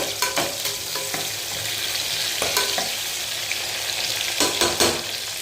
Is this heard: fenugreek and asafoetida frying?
yes